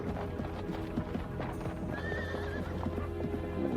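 A horse clip-clops away at a steady rhythmic pace in a 1995 Western film, its hooves clear and fairly close, with a short whinny partway through over faint background sound.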